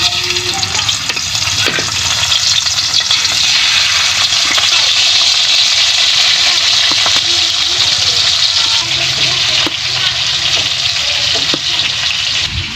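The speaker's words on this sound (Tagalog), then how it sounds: "Dahil mainit na nga po ang ating mantika, lagay na natin ang ating isda." Galunggong fish frying in hot oil in a wok, a steady loud crackling sizzle running throughout, close up, with occasional faint clicks and no talking.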